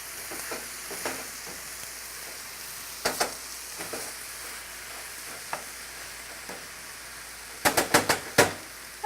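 Corn browns and caramelizes in a hot pan with a steady, soft sizzle and scattered crackles. A quick cluster of sharper pops or clicks stands out near the end. No one speaks.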